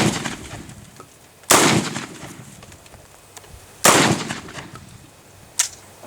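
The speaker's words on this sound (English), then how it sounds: "I'm gonna shoot this right now and see the difference in the double op buck and this turkey shot" Shotgun loaded with turkey shot fired at a target outdoors: three sharp, loud blasts spaced a couple of seconds apart, each with a short decaying tail, over quiet background.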